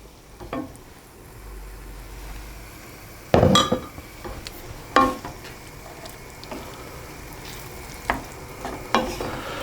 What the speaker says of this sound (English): And then I'm going to add our 200 millilitres of beef stock.